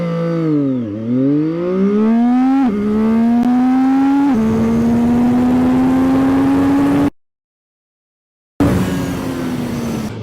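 A Triumph 675 motorcycle on the street accelerates hard with the throttle open, its engine note climbing loudly through several gear changes, then cutting out briefly before revving again.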